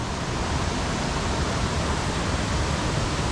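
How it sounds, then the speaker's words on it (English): Sabbaday Falls, a roadside waterfall off the Kancamagus Highway in New Hampshire, gives a steady, dense broadband rush of falling water, close and unbroken, with no voices. "The waterfall right there."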